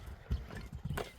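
Hooves clip-clop on the ground at a horse market in Kyrgyzstan, a few quick close thuds over a busy outdoor background.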